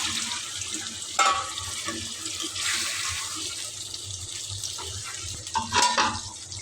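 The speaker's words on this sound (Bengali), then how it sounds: "কষানোর জন্য একটু পানি দিয়ে দেব" Water is poured into a pan of marinated duck meat being browned, giving a short gushing splash followed by a soft hiss and bubbling, with light stirring knocks near the end.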